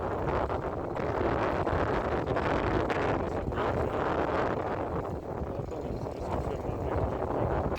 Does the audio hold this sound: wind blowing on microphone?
yes